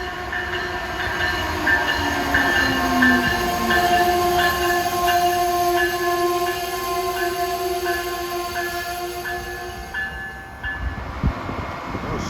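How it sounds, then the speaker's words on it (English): An Amtrak passenger train with an ACS64 electric locomotive at each end rolls loudly through Princeton Junction station, a steady roar with ringing tonal whine and rail clatter that eases off toward the end. "Approaching at 5:27 is Amtrak 129, New York to Washington."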